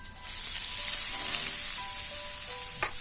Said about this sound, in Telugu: ఆయిల్ వేడెక్కిన తర్వాత సన్నగా తరిగిన పచ్చిమిరపకాయలు అలాగే ఉల్లిపాయ ముక్కల్ని కూడా వేసుకోవాలి